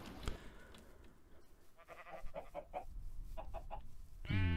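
Sheep bleat in a Minecraft game session, a few short wavering bleats mid-clip and a louder, rougher bleat at the end over a faint background.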